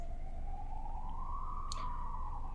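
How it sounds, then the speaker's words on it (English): A distant emergency siren wails, its tone slowly rising and then easing back over a steady background rumble, faint and alone with no speech. "There's the siren."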